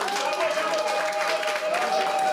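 A club audience applauding at a show at the Bendskin Club, continuous dense clapping from a crowd with a voice speaking over it.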